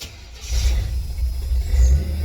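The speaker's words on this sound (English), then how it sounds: "We're gonna go ahead and fire this thing up" A squarebody Chevy truck engine with a recently changed thermostat fires up and settles into a loud, steady low rumble with a few revving surges, close and alone with no talk.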